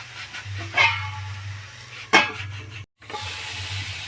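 Pumpkin leaves fry in a pan with salt and turmeric, giving a steady low sizzle broken by a couple of louder stirring scrapes and a brief drop to silence.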